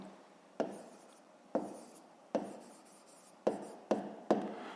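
Pen on paper during a school math exercise, six short separate scratching strokes spaced about a second apart, each a quick attack that fades, close and quiet.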